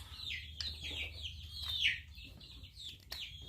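Backyard chickens make soft clucking and chirping calls, a few short bird sounds scattered over a low steady background hum, fairly faint and with no talking.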